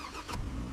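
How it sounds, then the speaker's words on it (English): A car engine turns over and catches at a mechanic's shop, a short burst of cranking settling into a steady, moderately quiet idle. "Please start the engine."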